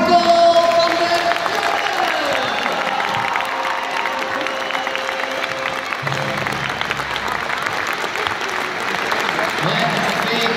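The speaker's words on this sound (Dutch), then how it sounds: "Onder uw applaus, Michael van der Kuren." Audience applause at the Jumping Amsterdam 2016 equestrian show, a large indoor crowd clapping steadily and loudly throughout with some cheering, while an announcer speaks over a PA system.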